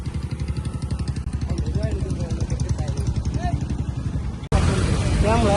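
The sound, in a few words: motorbike engine running in traffic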